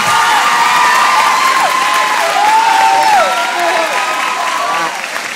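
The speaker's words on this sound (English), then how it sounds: "Big round of applause. Big round of applause." A graduation event crowd applauds loudly and steadily, with cheers and whoops mixed in, fading slightly toward the end.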